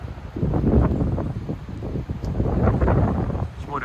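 Strong gusting wind from a thunderstorm in a widespread squall line, with rain showers, buffets the microphone as loud, continuous low roaring rumble that surges and eases over a few seconds.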